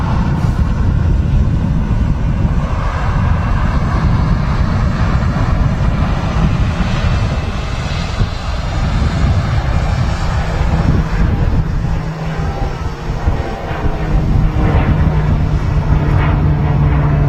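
A Pilatus PC-12 turboprop departs Manchester Airport, its steady loud broadband engine roar and rushing wind noise continuing throughout without much change.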